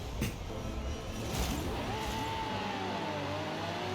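A race car launches in Forza Horizon 5 with its clutch slipped, the engine note climbing steadily in pitch as revs build, loud and continuous with a brief squeal-like burst near the start.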